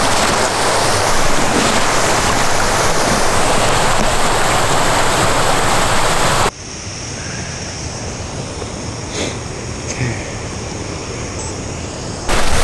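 A river rushes after a winter storm near a waterfall, a loud, steady roar of flowing water that drops abruptly to a softer, continuous wash partway through.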